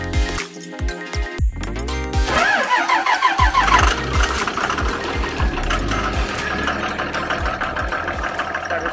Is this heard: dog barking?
no